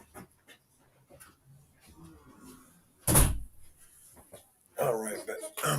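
A dog being babysat pants close by in soft, quick breaths, with a sharp knock or thump partway through and a person talking nearby.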